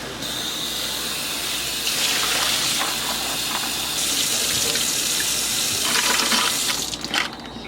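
Water runs steadily from a kitchen faucet onto canning jar lids being washed in a sink, a continuous close hiss that swells and brightens in stretches as the lids pass under the stream.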